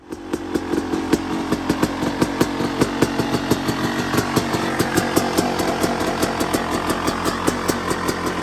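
A cold Yamaha YZ250 two-stroke dirt bike engine running and warming up on a frosty day, loud and close with a steady, rapid popping idle rhythm.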